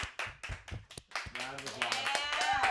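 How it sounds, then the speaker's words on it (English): A small group gives a short round of applause, quick bright claps in the opening second or so, after which talking and laughter take over. "Hey, round of applause."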